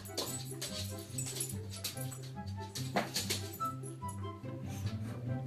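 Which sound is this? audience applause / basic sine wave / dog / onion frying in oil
dog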